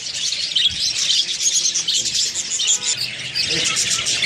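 Budgerigars chirp and squawk in a dense, continuous chorus while being caught by hand from a colony, the calls loud and close throughout.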